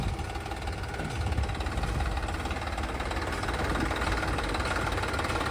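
A Massey Ferguson 241 tractor's diesel engine runs steadily at idle, a close, continuous rumbling knock with no talking over it.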